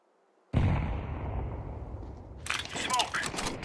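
A grenade goes off in a video game firefight, a sudden loud blast followed by a long rumbling roar, then crackling and more gunfire-like bursts near the end.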